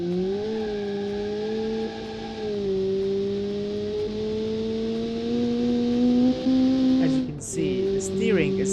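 A 2.2 liter car engine in the Automation racing game revs steadily with a smooth, harmonic drone, pitch rising slowly before dipping and climbing again near the end, loud and close throughout with light background chatter.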